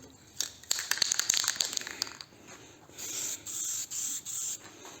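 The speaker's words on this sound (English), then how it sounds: "So I'll just give these a quick spray" Rattle-can spray paint hissing onto parts of a Studebaker, a burst of short clicks and rattles followed by four steady, close spray blasts of about half a second each, separated by brief pauses.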